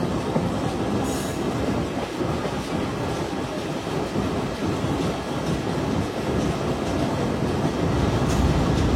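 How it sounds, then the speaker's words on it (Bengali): A commuter train rolls into a railway station, its wheels rumbling and clattering steadily, with faint metallic squeals now and then as it slows. "আমাদের ট্রেনটি এখন শিবচর রেলওয়ে স্টেশন প্রবেশ করলো"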